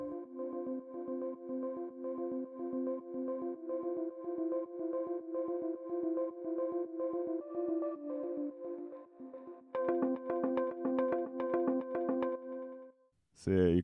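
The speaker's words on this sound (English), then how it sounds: "I actually took a sample of a bell, and I put it in this granulator synthesizer." A bell sample looped rapidly by a granulator synthesizer, producing a sustained, shimmering metallic tone with fast pulsing texture that shifts pitch partway through, faint and alone.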